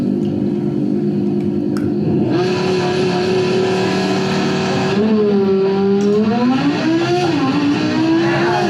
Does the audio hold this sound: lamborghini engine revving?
yes